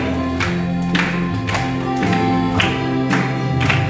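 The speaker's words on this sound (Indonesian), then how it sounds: "Ayo semuanya tepuk tangan buat Tuhan." Children clap along to a song at a Sunday school service, rhythmic claps landing on each beat over loud, sustained singing and music.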